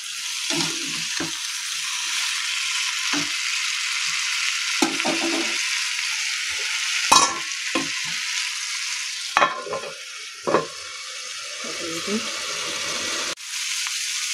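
Poppy seed paste (posto) fries in a pan with a soft continuous sizzle, close by, broken by a few sharp clinks and scrapes of stirring and brief voices in the background.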